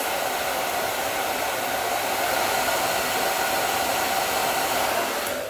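A hair dryer set to high heat blows on a synthetic wig during styling, a loud, steady, close-up rushing whoosh that holds constant for over five seconds with no voices.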